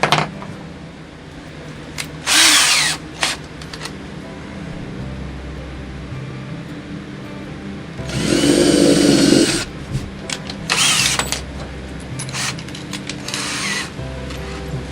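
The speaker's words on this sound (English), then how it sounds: "Pre-drill that one right through the hole." A power drill pre-drills a hole through an existing hole, with several short whirring bursts and one longer sustained run, separated by quiet pauses and light handling noises.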